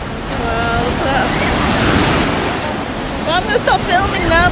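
Surf rolling onto a sandy beach at Patara, a steady broad wash of waves with wind buffeting the microphone, while people talk in the background near the end.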